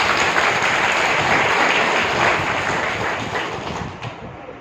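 A round of applause from the audience at a Brahma Kumaris yoga class in Chhindwara: dense, continuous clapping that fills the space evenly, then thins slightly and fades near the end, with no talking over it.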